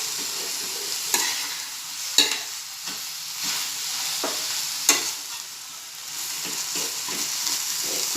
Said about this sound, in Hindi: भाजी में अंडा अच्छे से मिक्स करूंगी।